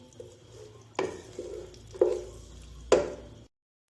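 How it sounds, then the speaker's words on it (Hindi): Chopped onions frying to light brown in a pan: a low sizzle under several distinct stirring scrapes of a utensil against the pan, roughly one per second, close and fairly quiet. "अब हम इनको लाइट ब्राउन करेंगे"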